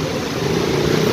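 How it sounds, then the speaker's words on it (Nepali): A motorbike comes up from behind on a rainy ride near Nirmal Pokhari, heard as a steady close engine drone with broadband road and wind noise, holding an even level for about a second before it cuts off abruptly. "पछाडिबाट बाइक आयो गाँठे।"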